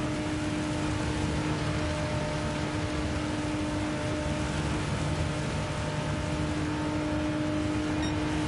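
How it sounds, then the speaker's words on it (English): Steady rain hiss in the Gran Turismo 7 racing game, a continuous broadband wash with a faint engine drone and tonal hum beneath, constant level throughout with no talking. "It is oddly satisfying hearing the rain noises though"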